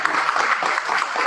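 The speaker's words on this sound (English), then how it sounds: "Start clapping." Steady applause from an audience, dense clapping filling the whole moment without a break, fairly loud and close.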